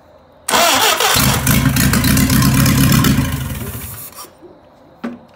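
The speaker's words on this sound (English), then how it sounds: "So I did just get it to start, but I didn't record it, so we're going to try it again." An M-170 Jeep ambulance with a newly replaced carburetor cranks, fires and revs loudly, then the engine note fades, with a short knock at the end.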